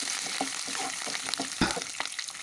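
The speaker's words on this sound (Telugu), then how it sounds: "కరివేపాకు కూడా కొంచెం వేసేసుకుందాం. అది కూడా చక్కగా వేయించేసుకుందాం." Curry leaves frying in hot oil as the tempering for lemon rice, a loud steady sizzle with crackles and occasional stirring scrapes, close up and without talk.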